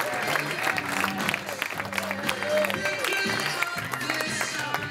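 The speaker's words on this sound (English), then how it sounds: "put your hands together, please, for Mr. Gaurav Gupta" An audience claps and cheers to welcome a speaker, Mr. Gaurav Gupta, onto a stage, with a broad wash of applause and crowd noise under a voice talking over it.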